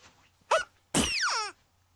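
A cartoon sneeze for a drawn paw print: a short sharp intake burst followed by a louder, longer voiced sneeze with a falling pitch sweep, close and alone against silence.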